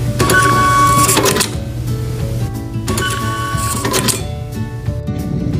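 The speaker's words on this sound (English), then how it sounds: "The Microcom 485 TC printer is the ideal choice for on-demand printing of tickets and wristbands in your box office." A Microcom 485TC compact thermal ticket printer runs two bursts of printing, each a loud whirring feed with rapid mechanical buzzing that then settles into a lower, steady motor hum.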